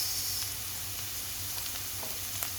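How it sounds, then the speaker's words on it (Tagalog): Garlic sizzling in hot oil in a pan while chicken is cooked: a brief, faint, even frying hiss over a low background hum, with a small tick near the end and no voices. "ilagay na natin ang ating garlic"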